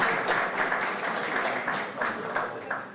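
Applause from a luncheon audience, a dense patter of many hands clapping, steady and moderately distant for a few seconds.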